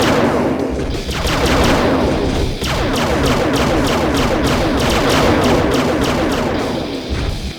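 Dense, continuous gunfire and blasts from the Transformers: Decepticons DS video game, loud rapid bursts layered over booming thuds with no pauses.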